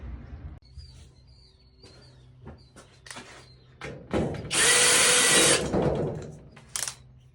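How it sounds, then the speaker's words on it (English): Power drill driving bolts back into a Wayne-Dalton DS-75 garage door bracket, with short bursts of tool noise and clicks building to a loud sustained whir of about a second, then a brief final burst. "now we just got to put the bolts back in"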